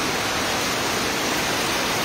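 Heavy typhoon rain pours down in a dense, steady hiss, loud and close, with no voices over it.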